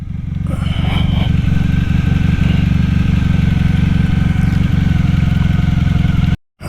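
A Honda motorcycle engine runs steadily and loud at close range, a low throbbing idle with light mechanical clatter that holds for several seconds before briefly cutting out near the end.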